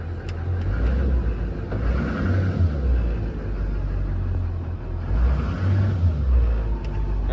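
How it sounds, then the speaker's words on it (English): A 2001 GMC Sierra 2500HD with a Duramax diesel revs under load from a low idle rumble. The truck is missing a plug and has unstable fuel pressure. The rumble is close, heavy and steady, with two swells as the throttle is blipped. "If I rev it a bit, you'll see here."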